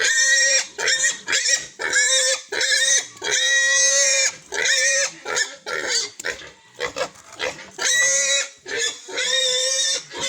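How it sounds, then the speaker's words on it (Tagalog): A pig squeals and grunts loudly at close range in repeated harsh bursts separated by short pauses. "Ito aking baboy, kakatayin ito bukas ng may-ari"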